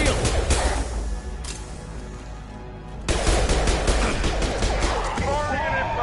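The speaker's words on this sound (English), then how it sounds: "Firing an impact shot." Loud bursts of gunfire crack in Mass Effect Legendary Edition on Omega, rapid shots in two clusters with a pause between, and a voice speaking over the combat.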